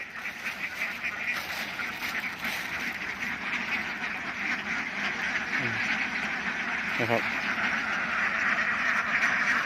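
A large flock of free-range egg-laying ducks quacks constantly nearby in a field, a dense overlapping chatter, while someone speaks briefly over the noise.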